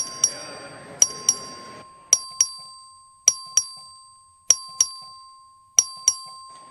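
A voting bell in the Texas House chamber is struck in paired dings, about five pairs in quick succession, bright and ringing clearly over a faint room murmur.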